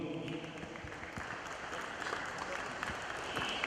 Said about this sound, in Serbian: možemo je pozdraviti jednim aplauzom